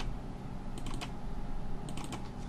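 A few faint computer keyboard key presses during 3D modeling work, two short clusters of soft clicks under steady background hiss.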